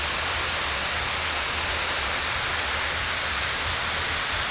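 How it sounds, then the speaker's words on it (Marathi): Heavy rain that has been falling since dawn in Velapur village, heard from inside a farm shed as a steady, dense, loud hiss with a low rumble underneath and no pauses. "दिवस उगवल्यापासून चालू आहे बरं का पाऊस"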